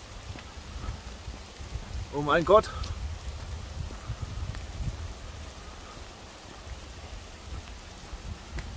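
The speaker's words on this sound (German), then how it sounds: "Oh, es regnet." Steady rain hiss fills the whole clip, with a brief spoken exclamation near the start rising above the downpour.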